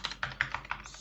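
Computer keyboard typing as a web address is entered, a quick run of about six close keystrokes in even rhythm, clear and without speech.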